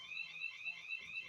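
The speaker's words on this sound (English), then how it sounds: "my alarm just went off" An electronic alarm beeping in a steady, repeating high-pitched pattern, fairly faint, with no talk over it.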